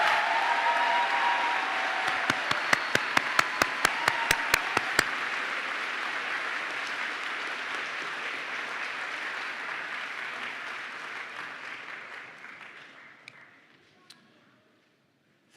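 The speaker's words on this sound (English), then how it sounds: "Can we have a round of applause for the graduates again?" Applause rises from a crowd at a college commencement ceremony honoring graduates, steady and fairly distant at first with a few sharp ticks early on, then gradually thinning and fading to near silence.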